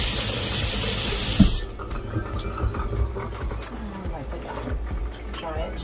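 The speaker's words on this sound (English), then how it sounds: "Give it a quick rinse." Kitchen tap water runs loudly into a sink while cored bell peppers are rinsed. A strong steady flow gives way after a second and a half to softer splashing and trickling.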